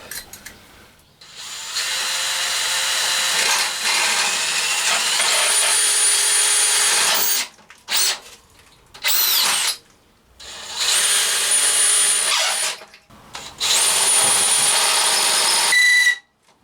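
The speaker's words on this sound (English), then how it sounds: "I drill that out and drill them out." Power drill boring out holes while restoring a Triumph, several long bursts of steady whining drilling separated by short pauses, close and loud with no talking.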